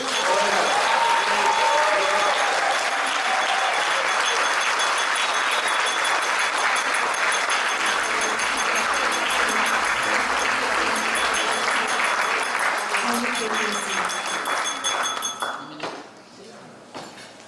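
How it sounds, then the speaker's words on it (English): An audience at a Toastmasters District 75 installation ceremony gives sustained, loud applause that carries on steadily before tapering off at the end. "give our District Governor one rousing applause"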